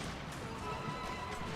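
Cavalry horses neighing and hooves clattering in a dense, busy video game battle din, with crashes mixed into the steady noise.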